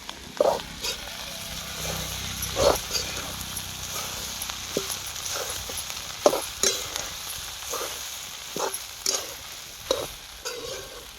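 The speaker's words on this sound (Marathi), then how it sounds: "त्याला घेऊ आपण आता हलवून" Food cooking over an outdoor fire in a farm field is stirred with a spoon, giving repeated scraping clinks and knocks in an irregular rhythm over a steady sizzle, with faint voices.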